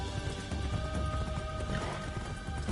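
Horse in Assassin's Creed Shadows, with clip-clop hoof sounds and soft snorting over a steady low game soundtrack rumble, continuous and fairly close.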